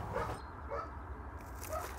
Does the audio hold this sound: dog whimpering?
yes